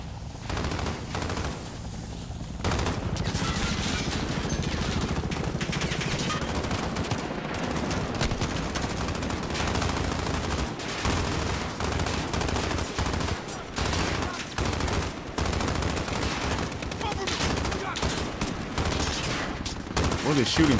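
Sustained gunfire in Call of Duty Modern Warfare, with dense overlapping bursts of rifle and machine-gun fire and a near, heavy battlefield din that continues steadily for about twenty seconds, with a quieter stretch at the very start.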